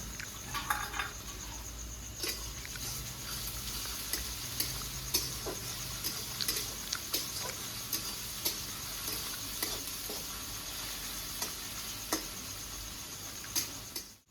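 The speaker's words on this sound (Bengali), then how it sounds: "ভাজা হয়ে গেছে, এবারে আমি দেবো আদা, রসুন, কাঁচা লঙ্কা সেদ্ধ করা।" Boiled ginger, garlic and green chilli paste sizzles in a pan with a constant hiss broken by sharp, ticking pops, heard alone without talk.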